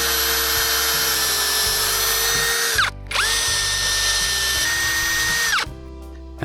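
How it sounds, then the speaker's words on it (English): A power drill whines loudly at full speed in two long sustained bursts, pre-drilling into floor joists, winding down briefly between them and stopping near the end. "For the big ones I'm gonna pre-drill."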